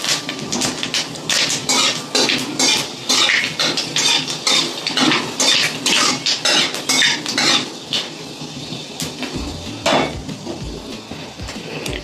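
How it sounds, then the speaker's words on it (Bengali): Panch phoron and dried red chillies fried in hot oil in a kadai, dominated by loud, rapid clattering of a metal spoon against the pan over a crackling fry, close and without speech. "পাঁচ ফোড়ন আর শুকনো লঙ্কাটাকে একটু ভেজে নিই"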